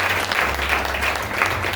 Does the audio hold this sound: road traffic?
no